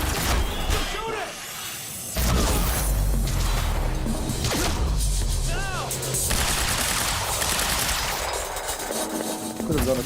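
Gunfire erupts in a Quantum Break firefight, dense bursts and sharp shots with crashes and whooshes layered in, loud and close, while voices shout and talk throughout.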